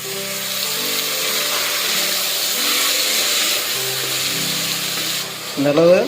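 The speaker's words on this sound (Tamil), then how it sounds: "நறுக்கி வச்சுருக்கிற தக்காளியை இது கூட போட்டுக்கலாங்க" Tomatoes sizzle steadily in a hot pan, a constant frying hiss with soft tonal music underneath and a brief clatter near the end.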